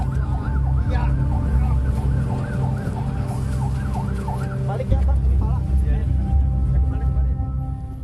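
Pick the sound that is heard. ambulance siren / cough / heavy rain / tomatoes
ambulance siren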